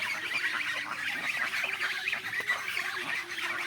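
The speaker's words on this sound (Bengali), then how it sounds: "এই সেইগুলো হাঁস।" A flock of farmyard ducks kept for sale calls in a steady, overlapping chorus of quacks and honks, fairly close and continuous with no pauses.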